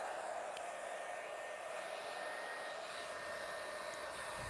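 A hair dryer blowing steadily at the base of the hair near the roots during a blowout, a constant close whooshing roar with no breaks and no talking.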